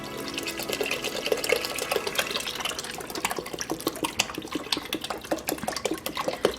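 Beef broth from a 32-ounce carton pours steadily into an Instant Pot set on saute, a close, continuous glugging splash of liquid with rhythmic bubbling gulps from the carton.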